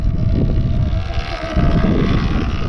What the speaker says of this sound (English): It's very windy now, the wind's not going to be great